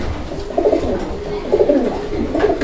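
Pigeons coo close by in soft, low, repeated phrases, a pair of fancy Lahori pigeons at a bird sale, with faint background noise.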